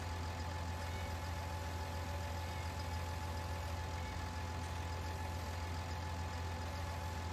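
A tractor engine idles with a steady low rumble, constant and faint throughout.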